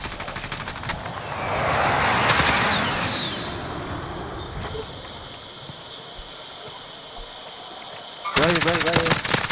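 FFAR rifle fire in Call of Duty Cold War, with rapid gunshot bursts at the start and a loud close burst at the end, separated by quieter game ambience.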